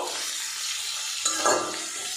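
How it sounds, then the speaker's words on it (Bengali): Steady hiss of ginger and tomato frying in a pan, with a brief stir or scrape around the middle; close and continuous, no voices. "আদা আর টমেটোটা আমি একটু ভাজা ভাজা করে নেব।"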